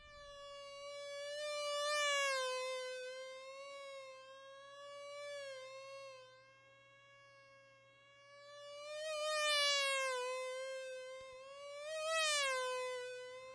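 A synthesized fly buzz with Doppler and reverb sweeps past in several waves, a thin harmonic whine that rises and falls in pitch and loudness, swelling near and fading away, alone without speech.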